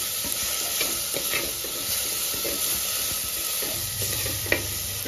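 Tomatoes with turmeric and salt sizzle steadily in hot oil in a pan as a spoon stirs them, with soft scraping strokes over a continuous frying hiss.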